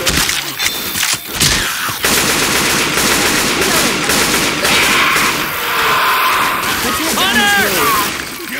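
Loud, rapid bursts of automatic gunfire from Left 4 Dead 2, nearly continuous and close, mixed with game effects and character voices shouting over the shooting.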